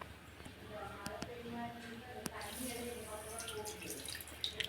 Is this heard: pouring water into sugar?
yes